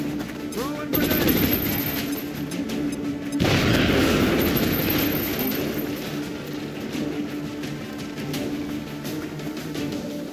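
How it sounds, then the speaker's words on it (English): A grenade explodes amid heavy gunfire in a combat video game, with two loud booming bursts breaking through continuous rattling automatic fire and distant shots. "Throwing grenade."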